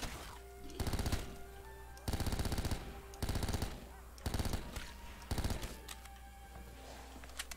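Video game gunfire comes in five loud automatic bursts of rapid shots separated by short pauses, over steady background game audio and music.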